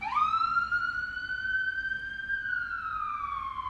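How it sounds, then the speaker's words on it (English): An emergency siren wails in one long rising-then-falling tone, loud and steady with strong harmonics, sounding alone with no talk over it. "Are you playing with the siren?"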